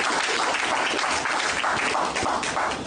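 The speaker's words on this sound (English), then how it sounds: "I think we should give her a round of applause for all what she's done" An audience applauds at a news event: dense, sustained clapping, fairly loud and even, running the whole time with no speech over it.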